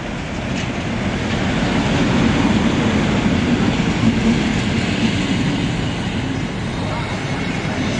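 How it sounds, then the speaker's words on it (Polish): Koleje Śląskie passenger train from Częstochowa to Gliwice pulling into a platform, a steady loud rumble of wheels and carriages running continuously, with a platform announcement voice layered over it. "Pociąg osobowy Koleje Śląskie Szcząstochowy do Gliwic wjedzie na tor dziewiąty przy peronie pierwszym."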